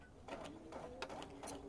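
A sewing machine stitching slippers made of minky fabric: quiet, close mechanical whirring in short bursts of a few stitches each, with brief pauses between.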